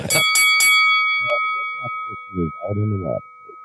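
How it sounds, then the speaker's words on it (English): A bright bell rings three quick times, then a single clang whose tone lingers while a voice talks briefly underneath. "let the bell ring"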